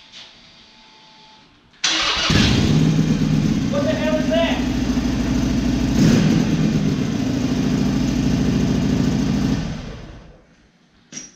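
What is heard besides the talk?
Harley Sportster 883 engine starting and idling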